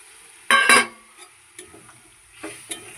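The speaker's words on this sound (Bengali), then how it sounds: "এবার দিয়ে দেবো চিকেনগুলো, দিয়ে এবারটা ভালো করে একটু কষে নেব" Chicken being sautéed in a pot for chicken biryani, with a sharp metallic clatter of a spoon against the pot, then softer scattered scrapes and stirring over a faint sizzle.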